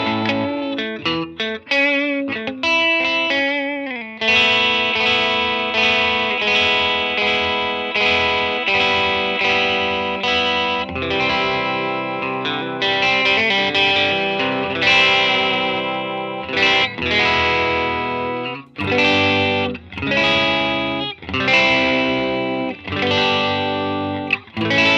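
An electric guitar on its middle pickup runs through a RAT distortion pedal set to low gain, with quick picked notes giving way to bright, gritty chords and riffs played loud and close for a long stretch without talking.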